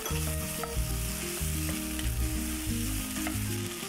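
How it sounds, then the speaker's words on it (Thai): Ham and peas stir-fried in a pan for Thai misua noodles, a loud steady sizzle with scraping stirs close by and no talking. "จากนั้นใส่แฮมค่ะ เราจะผัดแฮมให้หอมแล้วก็สุกดีเลยนะคะ"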